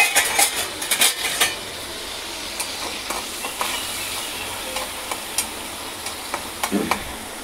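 Potato patty mixture stirred in a hot pan with salt, a low continuous sizzle broken by frequent close scrapes and clinks of a spoon against metal, with no talking.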